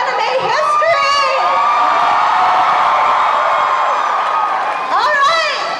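An anime convention panel audience cheers and whoops, a loud continuous crowd roar with high shrieks rising at the start and end, while a voice speaks over it.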